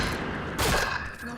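A quick burst of gunfire from the Point Blank shooter game on the Burning Hall map, a sharp crack-laden volley in the middle of a short clip over steady game background noise.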